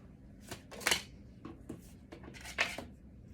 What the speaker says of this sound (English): I'm going to pull 3 cards from each deck. They're all pre-shuffled.